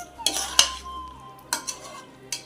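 Spoon scraping and clinking against a cooking pot while masala with turmeric is mixed in oil for chicken kuzhambu, a few sharp knocks and scrapes spaced apart over a faint sizzle.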